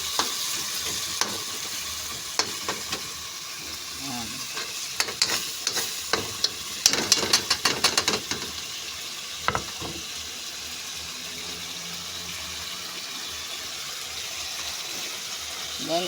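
Sardines sauté in a hot pan for Filipino ginisang repolyo, a steady close sizzle running throughout, with a burst of scraping and clattering stirring in the middle and faint background voices.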